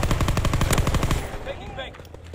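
Rapid automatic gunfire in Fortnite hits the player from behind, a dense burst of close shots that cuts off after about a second and leaves a fading ringing tail.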